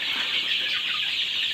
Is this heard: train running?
no